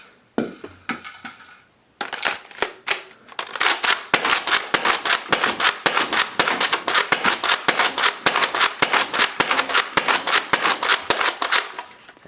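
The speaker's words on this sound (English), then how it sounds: "We'll be shooting a 7-round magazine in it first, and then transitioning into a 12-round." A Nerf Rival Apollo blaster fires a 12-round magazine, round after round in a rapid, steady string of sharp, loud snapping shots that begins after a few scattered clicks and handling noises and keeps going to the end.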